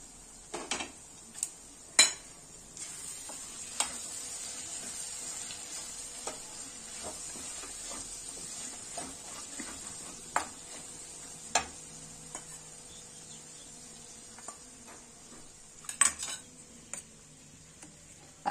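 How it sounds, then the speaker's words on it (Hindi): Broad beans being stirred into gravy in a pan with a spoon, then covered with a lid: scattered sharp metallic clinks and scrapes over a steady low sizzle, close and alone. "ग्रेवी में मिक्स कर देंगे अपन सेम की फल्ली को और ढक के रखेंगे।"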